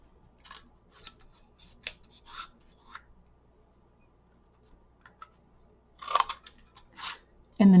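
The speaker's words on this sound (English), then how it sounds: "when you're cutting it with scissors" Card stock being cut with scissors while making handmade greeting cards, a few short crisp snips spaced out across the stretch, then a louder cluster of cuts near the end, close and clear with no talk.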